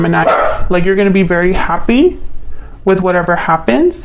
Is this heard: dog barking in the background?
yes